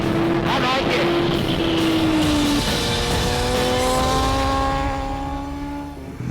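An MV Agusta sportbike, an F4 RR or Brutale 1090 RR, pulls hard through first and second gear, its engine note climbing and then dropping at a shift before rising again, loud and close, with wind rush behind.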